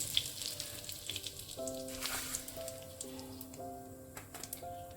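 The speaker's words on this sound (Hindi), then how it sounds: "तेल हमारा गर्म हो गया है। पहले हम थोड़ी सी हींग ऐड करेंगे।" Asafoetida sizzles in hot oil for a potato-tomato curry, a steady close frying hiss with light spattering, while faint tonal beeps sound in the background.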